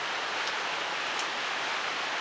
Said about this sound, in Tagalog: Iniingay na, lumalakas na yung patak ng ulan.